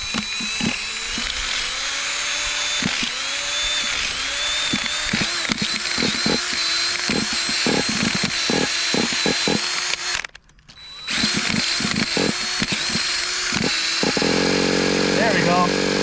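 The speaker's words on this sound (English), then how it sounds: "And then we're just gonna take the drill and just bump it." A power drill whines against a vintage 1985 Kyosho Integra Vanning nitro RC engine running 20% nitro fuel, cranking in short bursts with sharp clicks, a brief pause, then a louder, harsher burst near the end; speech occurs.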